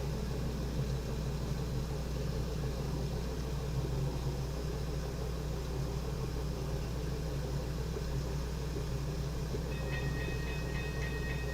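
An eastbound train rumbles steadily toward a crossing in Kearney, a constant low drone with no talking, and a faint ringing tone joins in near the end.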